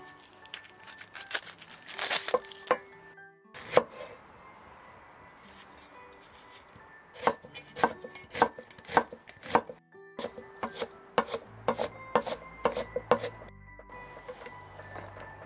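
A knife chops a medium Spanish onion on a cutting board, heard close up as irregular bursts of sharp taps. The bursts are broken by short pauses, with faint rustling between the strokes.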